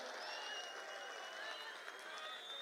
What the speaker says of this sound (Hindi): ताली बजाइए रमेश जी के लिए जोर से जरा।